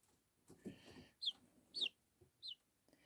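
Three short, high-pitched chirps from seven-day-old chicks come in quick succession after a brief stretch of soft rustling, close and fairly clear.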